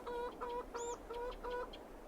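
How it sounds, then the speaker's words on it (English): Chickens in a video game give a rapid run of short, close clucks, about eight bursts with one higher squawk among them, heard alone and fairly faint. "the chickens."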